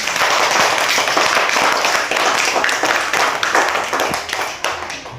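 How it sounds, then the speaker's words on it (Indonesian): A classroom of pupils claps for group 2, a dense burst of many hands that carries steadily for a few seconds before tapering off. "Tepuk tangan."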